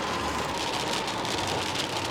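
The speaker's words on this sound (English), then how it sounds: "Y'all see how it's raining?" Steady rain falls in Houston, a dense even hiss of drops hitting the ground and nearby surfaces with no pauses, fairly close and constant throughout, with no voices over it.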